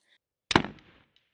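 Arrow from a Mathews Title 34 compound bow striking a standing stag 3D target on an outdoor course at about 67 yards: one sharp, loud impact crack with a short decaying tail, otherwise quiet.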